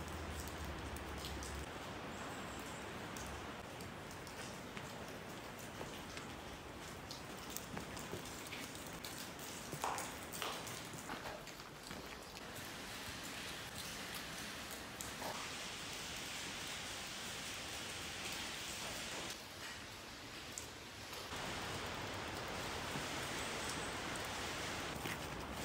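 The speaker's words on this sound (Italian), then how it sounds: "voglio sperare che siano soltanto gocce che cadono sulle foglie già bagnate" Water drops fall steadily onto already wet leaves outdoors after days of rain, making a soft, continuous pattering hiss that stays faint and even throughout, with no voices.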